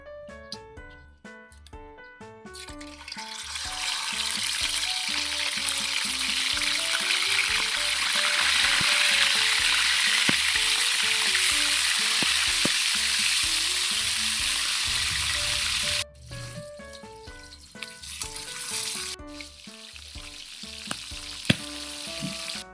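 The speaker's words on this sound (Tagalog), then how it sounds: "gigisa rin tayo ng bagong na alamang" Shrimp paste (alamang) sautéing in hot cooking oil, a loud continuous close sizzle that swells and holds, with music playing throughout and a brief drop near the end.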